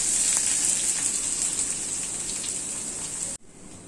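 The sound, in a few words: onion and garlic frying in oil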